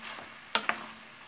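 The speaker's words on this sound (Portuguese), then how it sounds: "então vou deixar ela refogando aqui. E conforme ela for fritando, eu vou pingando água, até ela ficar molinha." Pork ribs sautéing in a covered pan with drizzled water give a soft, steady sizzle, punctuated by two brief sharp crackling spurts close by.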